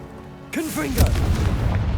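Confringo spell blast in the video game Hogwarts Legacy, a short vocal cry followed by a loud, deep boom and a lingering low rumble with crackling debris.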